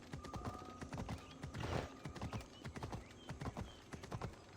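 Steady clip-clop of horse hooves trotting on a hard surface through a town in the video game Assassin's Creed Odyssey, with a brief whinny midway and faint background ambience.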